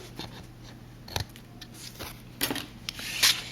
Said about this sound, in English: So now I'm just going to trim off the excess of this black frame.